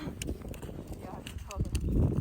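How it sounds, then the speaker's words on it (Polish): Horse hooves clip-clop close by in a quick, uneven rhythm, growing louder toward the end, partly under a person talking. "Ten koń jest po prostu niesamowity."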